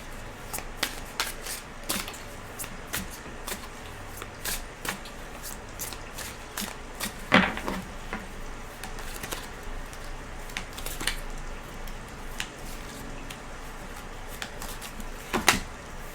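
Tarot cards are shuffled steadily at close range, giving dense papery riffling and soft flicks, with two sharper snaps of cards being slapped down partway through. No one speaks.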